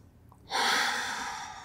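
A single long breath during a Pilates workout, a soft airy exhale that begins after a brief pause and carries on steadily, close and fairly quiet, with no talking.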